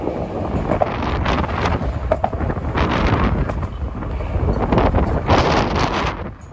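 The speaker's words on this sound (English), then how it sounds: "Wow, it's really windy." Strong wind buffets the microphone in loud, rushing gusts that swell and ease throughout on a New York City street near Broadway at night, with no other sound standing out.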